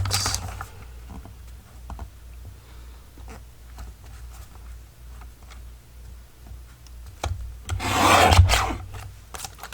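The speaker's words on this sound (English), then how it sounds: "And this I can use my mini, excuse me, my mini guillotine for." A mini guillotine paper cutter handles junk journal paper: quiet rubbing and sliding with small ticks, then one louder rasping slice of the blade near the end, all close and without speech.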